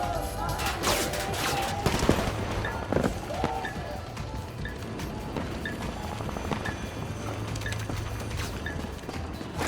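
Gunfire in the video game Combat Champions: scattered shots and bursts crack over busy in-game noise and footsteps, fairly subdued in the mix.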